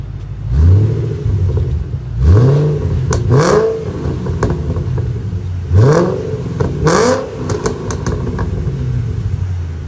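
A catless Ford Mustang Shelby GT500 with Kooks headers and an X pipe revs hard several times, each blip rising sharply into a snarling roar and then falling back to a rumbling idle, loud and close, with no talking.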